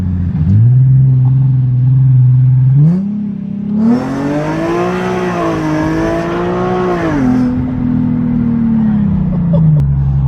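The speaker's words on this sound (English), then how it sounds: "I felt the rear tires spin. In between gear shifts." An Infiniti G37 engine drones steadily on a dyno, then revs up higher and louder for a few seconds with the rear tires spinning before settling back to a lower hum; voices speak over it.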